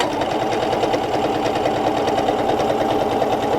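A PFAFF ambition 610 sewing machine stitches a straight seam through heavy denim, its needle running in a steady, fast mechanical rattle that holds close and even from start to finish.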